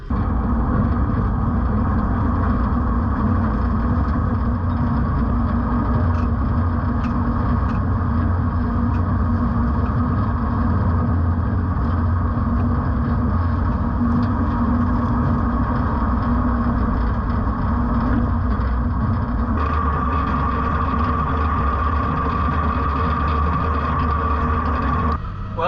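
A Case IH Puma tractor works a field in South Dakota, its engine a loud, steady diesel drone heard from the cab for the whole stretch. A slight change in tone comes near the end.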